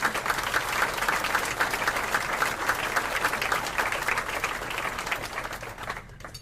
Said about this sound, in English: if we could just give them a round of applause before I get started.